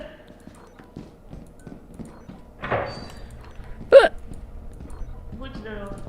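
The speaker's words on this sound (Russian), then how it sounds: "Разыкались." A single sharp hiccup sounds near, followed by faint rustles and soft background voices from people playing Lethal Company on a co-op stream.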